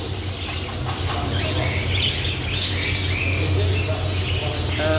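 Cockatiels in a bird shop chirp and squawk in a dense, continuous chorus of overlapping calls, with a steady low hum underneath throughout.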